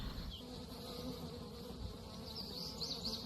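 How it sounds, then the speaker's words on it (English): Bees buzz around a yard during honey extraction, a faint continuous drone with a few louder passes as insects fly near, heard alone. "I keep having to move around in the yard because there's so many bees out here"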